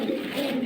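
A pigeon, a high-flying Giribaz held in the hand indoors in a dim room, gives a soft continuous low cooing throughout, close and steady.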